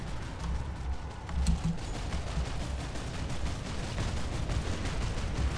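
Battlefield gunfire in the online shooter Planetside 2, including a sniper rifle, heard as dense, continuous rattling fire with distant booming thuds, steady and fairly loud.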